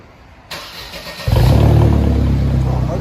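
After a brief click, a 2000 Mercedes SLK 230 supercharged engine starts and revs loudly through a dual straight-piped exhaust, a harsh, throaty roar held close by.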